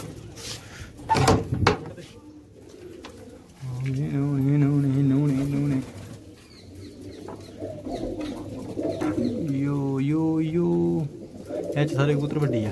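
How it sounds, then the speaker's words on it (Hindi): Pigeons coo in low, repeated rolling calls alongside people talking nearby, with a few sharp knocks early on. "सारे कबूतर वड्डी आ"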